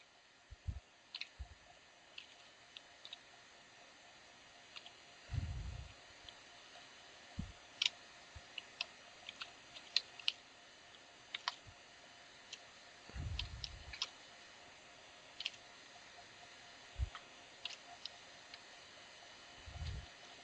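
Sparse, faint keystroke clicks on a computer keyboard while lines are typed into a PHP configuration file on Linux Mint, with a few dull low thumps between irregular taps and no voices.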